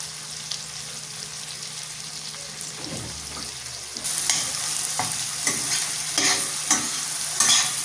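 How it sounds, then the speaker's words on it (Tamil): Three large tomatoes go into a hot pan with onions, followed by loud sizzling and frying with scraping spoon strokes stirring at an uneven pace, close up and with no talk. "பெரிய தக்காளி பழம் 3 சேர்த்துக்கிறோம்."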